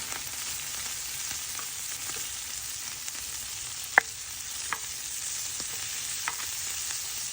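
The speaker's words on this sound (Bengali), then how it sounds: "এটা ভেজে নিই" Puti fish frying in a pan with green chili and coriander, a steady broad sizzle running throughout with a few sharp pops and crackles, close and continuous with no talking.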